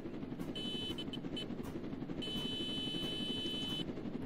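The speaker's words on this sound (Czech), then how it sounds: "máme další helikoptéru" Helicopter in a Roblox prison game, a faint steady rotor drone with short high electronic beeps sounding over it.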